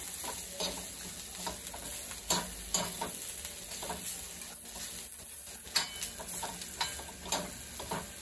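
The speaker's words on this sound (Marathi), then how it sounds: "हे धने आणि बडीशेप टाकून घेऊया आणि हे 2 मिनिटं चांगलं भाजून घेऊया" Coriander seeds and fennel dry-roasting in a pan for a Kokan-style crab curry, with a steady soft crackle and sizzle broken by repeated scraping stirs and light clinks of the utensil against the pan.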